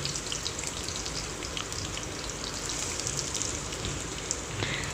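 Garlic and onion sizzling in hot sesame oil in a kadai, a steady, dense crackle that runs evenly throughout at close range with no talking.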